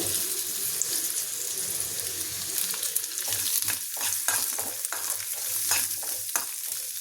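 Onion and garlic frying in oil for chickpea bassaru: a constant crackling sizzle with repeated scraping strokes of a spatula stirring the pan, close up, no voices.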